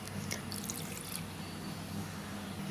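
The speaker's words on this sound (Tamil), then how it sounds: "அந்த ஊறின தண்ணியே போட்டு ஜாரில் சேர்த்துக்கலாம்." Soaking water from toor dal and raw rice is poured into a grinder jar, making a steady close liquid splash and trickle throughout, with a few brighter drips near the start.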